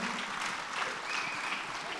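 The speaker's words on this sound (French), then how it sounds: "On peut l'applaudir bien fort." Audience clapping at a town New Year's greetings ceremony in Fresnes-sur-Escaut, a steady, fairly dense round of applause from a moderate crowd, continuous for two seconds with no talking.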